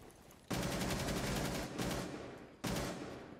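Rapid automatic gunfire in Rainbow Six Siege comes in three sustained bursts, loud and close, with brief gaps between them and no talking.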